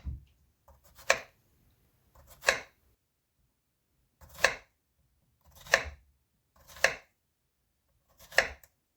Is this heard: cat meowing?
no